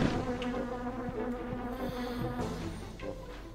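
Bees in the PS1 video game The Grinch give a steady, continuous buzz that holds level for the whole stretch, layered over droning game background tones, with no voices.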